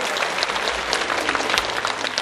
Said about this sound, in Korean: 한번 다시 한번 박수 주시기 바랍니다